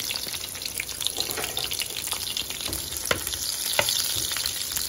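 Potatoes and onion frying together in a pan give a steady, close sizzle with a few sharper pops and crackles, and no voices.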